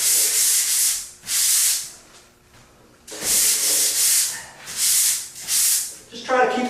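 Hand sanding by stroke in a workshop, a series of loud, rough scratchy rasps in steady bursts with short pauses between, close up.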